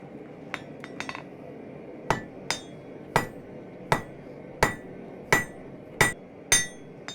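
A hammer strikes metal over and over while a leaf-shaped bottle opener is forged, giving about nine sharp, ringing blows at a fairly even pace, close by and with no talk.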